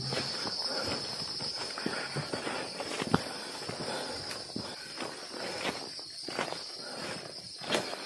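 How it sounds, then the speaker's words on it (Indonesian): A constant high-pitched drone of cicadas fills the background while footsteps crunch along at a steady pace on a mountain trail up Mount Lawu. "sepanjang perjalanan kita akan disambut suara serangga yang bersautan"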